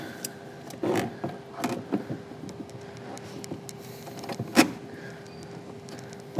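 An Attack Blue Nano dry air filter slid into its intake housing on a C7 Corvette with an LT1 engine, giving faint scrapes and plastic clicks with a sharper knock near the end, alone in a quiet space.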